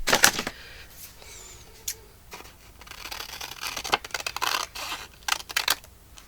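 Big scissors snip through paper in a series of short, crisp cuts, close by, with rustling and handling between them and no talking.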